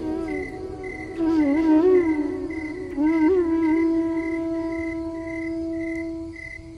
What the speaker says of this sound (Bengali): কেবল ঝিঝি পোকার ডাক ভেসে আসছে।